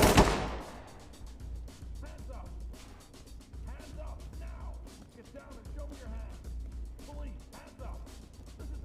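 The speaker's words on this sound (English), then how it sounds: "I hear gunshot, but I don't see anything." Gunfire in a video game opens with one loud nearby shot, followed by a dense, continuous stretch of fainter crackling shots and rumble while a voice talks over it.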